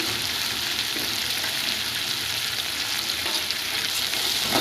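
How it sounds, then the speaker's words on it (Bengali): Spice powders of turmeric, chili and salt fry in a pan for pangas fish curry, giving a steady, close hiss of sizzling oil with light stirring underneath. "সব মশলাগুলো ভালো মতো কষিয়ে নেব।"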